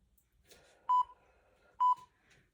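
Workout interval timer giving two short electronic beeps about a second apart, clear and fairly faint in a quiet room.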